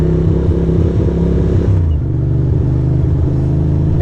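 A motorbike rides through Brooklyn streets at midday, its engine a loud, close, continuous rumble with uneven, jerky throttle changes and a brief dip partway through.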